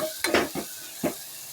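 A spoon stirs a sizzling potato and ivy gourd curry in a pan, giving four quick, close scraping strokes over a soft, steady frying hiss.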